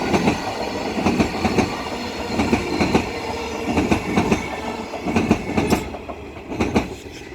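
Perth suburban EMU 52 electric passenger train, six cars coupled with EMU 118, passing through a station at speed, rolling wheels giving a steady rumble with repeated clickety-clack beats over rail joints, close and loud.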